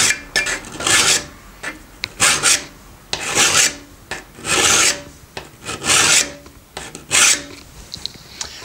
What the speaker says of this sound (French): Je prends ma lime et je vais limer donc ma surface dessus